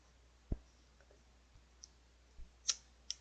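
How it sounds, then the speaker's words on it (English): A handful of sparse, quiet computer mouse clicks, irregularly spaced and faint, with a couple of slightly sharper ticks near the end against near silence. "The mouse clicks are so low."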